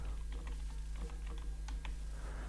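Steady typing on a computer keyboard while entering JavaScript code, a run of quiet, closely spaced key clicks over a low constant hum.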